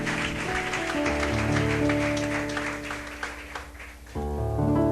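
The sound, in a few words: congregation applauding first-time church visitors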